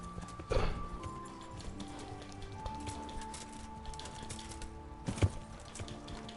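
Horse hooves clop faintly on the ground in the medieval video game Kingdom Come Deliverance, a soft, uneven thudding with a couple of louder hits over low ambient game sound.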